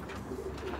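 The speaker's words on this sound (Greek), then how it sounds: "τι λες για τα περιστέρια μου." Pigeons of the Tyrnavos breed coo softly in a brief, low, throaty murmur, close by and fairly quiet.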